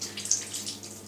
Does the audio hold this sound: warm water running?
yes